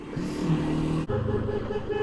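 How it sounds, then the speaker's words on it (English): A lorry beeps repeatedly in steady pulses close by, over the hum of idling engines and road noise. "now it's just beeping"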